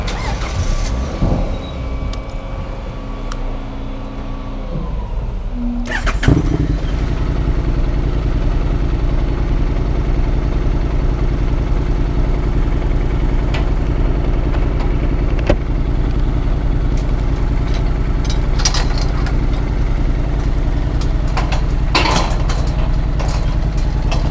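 A Honda NC750X motorcycle engine starts and settles into a steady rumbling idle, then rides off a ferry with occasional clanks and knocks, moving off nearby.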